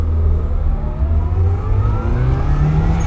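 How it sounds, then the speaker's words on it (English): A red mini truck with a turbocharged engine revs loudly and steadily nearby, its pitch climbing gradually over a few seconds with no talk over it. "cute little perfect red truck with a turbo"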